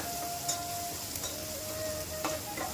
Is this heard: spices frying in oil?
yes